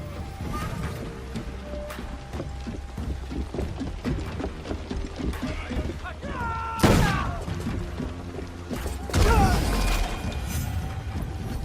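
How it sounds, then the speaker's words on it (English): Gunfire erupts during a battle in Assassin's Creed Shadows, with scattered cracks, thuds and mechanical clatter. Two louder bursts sound amid dense, busy combat noise. "They're shooting at us!"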